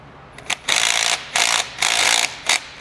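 A mini 3/8-inch cordless impact wrench snugs bolts on a 1986 first-generation Toyota 4Runner front axle swap, firing several loud, close rattling bursts of about half a second each with short gaps between.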